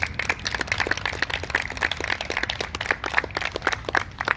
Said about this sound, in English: Let's give her a round of applause there.